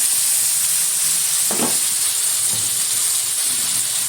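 Ground spice paste of cumin, ginger and chili with chopped tomato sizzling in hot oil for a sea fish curry with potatoes and taro, a steady loud hiss throughout with a few brief spatters, no talking.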